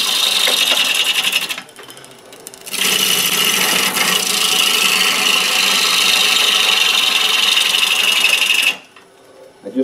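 A wood lathe turns a skinny bowl while a tool cuts the outside, making a loud, steady whirring and scraping hum that drops out briefly near the start and cuts off near the end.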